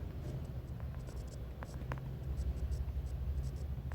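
Chalk or marker strokes scrape across a board in short, quiet bursts during a lesson on temple architecture, set against a low background rumble with no speech.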